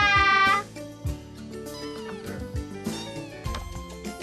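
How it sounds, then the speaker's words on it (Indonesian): A cat gives one loud, drawn-out meow up close, followed by softer sounds as music plays underneath. "Dia kucing yang baik."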